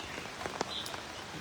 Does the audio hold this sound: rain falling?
yes